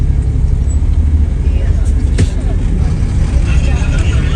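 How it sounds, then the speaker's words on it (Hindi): A car driving on the road ahead through Madinah, heard as a continuous, fairly loud motor and road rumble amid traffic. A voice is faintly present under it. "गाड़ी हमारे आगे भी जा रही है"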